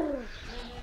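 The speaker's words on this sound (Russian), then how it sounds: "Такой голубь, что ли, здоровый." A large pigeon coos nearby outdoors in Greece, a short low rolling call heard once at the start, alone with a faint background hum.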